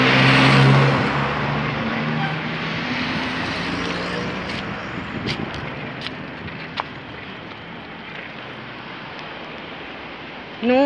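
Steady broadband roar of heavy car traffic on a busy avenue, heard from a bicycle, with a voice briefly near the start and a few sharp clicks over the continuous wash of passing cars.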